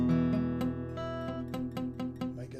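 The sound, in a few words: guitar chord with muted buzzing notes, finger touching string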